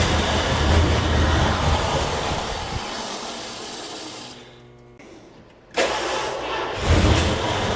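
A Dodge Diplomat with a freshly swapped carburetor cranks and fires on brake cleaner, its engine churning loudly before cutting out briefly, then catching again and running rough and close.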